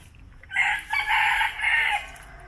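A rooster crows at the historic farmhouse of the Sítio do Picapau Amarelo, a moderately distant cock-a-doodle-doo in three rising and falling phrases over quiet background, with no talk.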